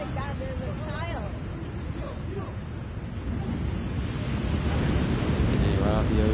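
Ocean surf roars steadily at the shore, mixed with heavy wind buffeting and rising in loudness toward the end, while people's voices are heard over it.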